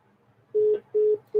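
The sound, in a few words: telephone tones after a phone call cuts out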